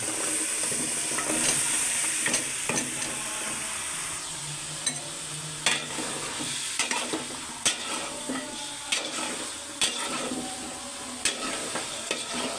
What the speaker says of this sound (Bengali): এখন লাউগুলো ভালো মতো কষাই নেবে।